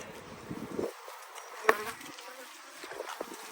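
Honey bees buzz close to the microphone at a hive in bad weather, a fluctuating insect drone that rises and fades, with a sharp click partway through.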